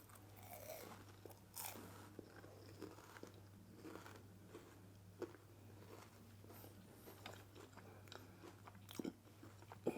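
Quiet, close crunches and chewing as a crisp medu vada with peppercorns is bitten into, with scattered sharp cracks spread over several seconds and no speech.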